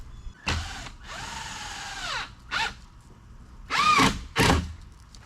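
A power drill drives screws into a walk-in cooler panel in several separate bursts: a short whir, a longer steady run that winds down, then three quick closely spaced spins, loud and near.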